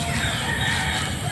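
Rooster crowing on a farm, a steady continuous call with faint clucking fowl mixed in, close and fairly loud for a brief moment.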